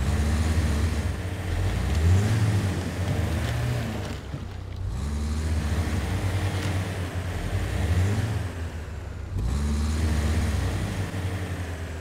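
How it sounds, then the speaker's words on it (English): A truck engine in the video game Expeditions: A MudRunner Game drones loudly and revs steadily, rising and falling in pitch over a constant low rumble, with no talking. "Okay, this truck is very loud."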